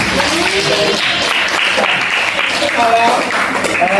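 Students clapping in a classroom at the end of a lesson, a continuous loud wash of applause with children's voices and shouts mixed in throughout.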